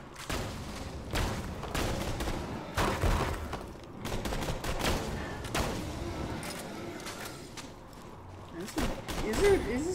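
Maliwan rifle fire in Borderlands 2 sounds off in repeated loud bursts and booms across the stretch, mixed with game effects and someone talking over it.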